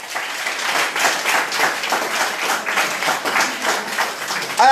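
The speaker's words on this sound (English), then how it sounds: "So I want you to give yourselves a round of applause." Audience at the 2019 St. Lucia Labour Party youth conference applauds in a dense, steady wash of clapping that stays loud throughout, with a sharper burst at the very end.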